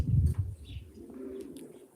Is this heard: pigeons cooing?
yes